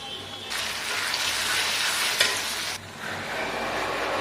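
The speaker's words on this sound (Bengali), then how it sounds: "পেঁয়াজ বাদামি কালার হয়ে গেছে, আদা রসুন বাটা মিক্স করে দিয়ে দিচ্ছি" Browned onions sizzle loudly in a pan as ginger-garlic paste goes in for chicken kosha, a steady dense frying hiss with stirring that swells after the paste is added and eases slightly near the end.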